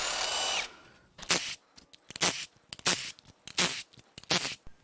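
Power tool working on fuel injector bolts of a 2020 Chevrolet Silverado 3.0 Duramax LM2 diesel engine during teardown: a sustained whir, then a series of short, loud ratcheting bursts spaced about half a second apart, close by.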